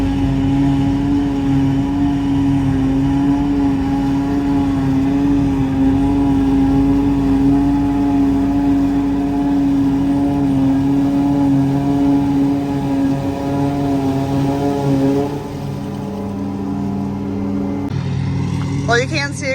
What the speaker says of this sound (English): we actually have 2 choppers going right now